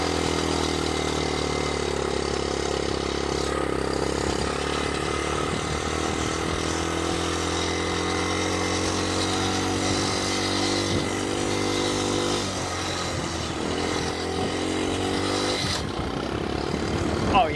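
A vehicle engine drones loudly and continuously while climbing a hill at a motors shop outing, rumbling and revving with shifting pitch, a brief drop near the end, and voices talking over it.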